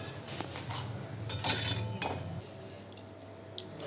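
Roasted raisins scraped and lifted out of a pan with a metal spoon while making dry fruit ladoo, giving a few light clinks and scrapes of metal on the pan, close and fairly quiet, with no talk.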